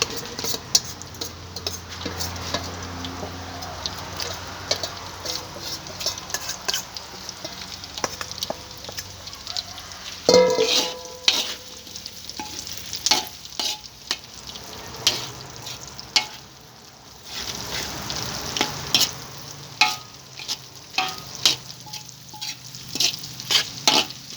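Pork fat stir-fried in a wok for crispy cracklings: a loud, constant oily sizzle and crackle with frequent spatula scrapes and knocks against the pan, close and continuous, with no talking.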